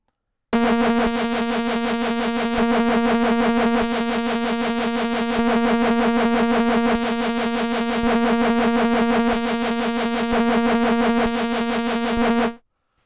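Prophet 08 synthesizer with a square-wave LFO modulating oscillator 1 frequency, a buzzy sustained tone rapidly trilling between two pitches, loud and steady for about twelve seconds, then cutting off abruptly.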